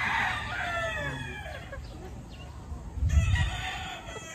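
A rooster crows loudly and close at the start, with hens clucking nearby and a low thump partway through, on a farmyard setting.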